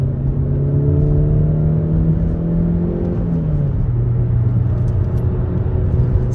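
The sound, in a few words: Mazda CX-30 petrol engine revving high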